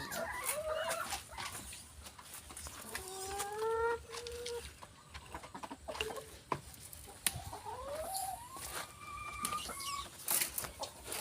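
Chickens cluck and squawk steadily in a farm coop during egg collecting, several birds overlapping with rising calls, moderately close, with no talk.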